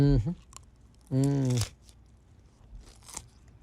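Someone bites into a chocolate-dipped green pepper, giving a short crisp crunch followed by quiet chewing, with brief bits of voice around it.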